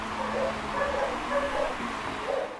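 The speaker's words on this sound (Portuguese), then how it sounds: "E meus cachorros agora loucamente loucos." Several dogs bark and yip repeatedly in a home, moderately distant and uneven in rhythm, over a steady background hum.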